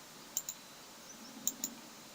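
Two pairs of sharp, faint computer mouse clicks during a Windows 7 installation, each pair a quick double tap, close and quiet in an otherwise silent room.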